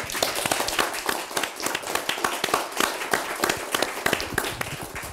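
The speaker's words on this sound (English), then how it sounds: "I think that deserves a round of applause." An audience claps together in a lively, even round of applause, many hands at once, steady throughout with no voices over it.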